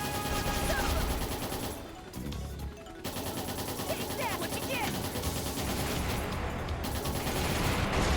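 Shooting in Trails in the Sky the 3rd, a dense continuous barrage of rapid gunfire and blasts filling the game soundtrack, briefly dropping out near the two-second mark.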